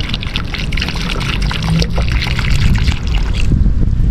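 Water pours steadily from a small jug onto a plant, a continuous close splashing trickle with wind-like outdoor noise throughout.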